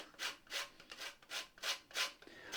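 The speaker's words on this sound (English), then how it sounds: "I'm going to grate some lemon zest." Lemon zest being grated on a hand grater for Moroccan spiced couscous, six rhythmic rasping strokes about half a second apart, close and fairly quiet with no talking.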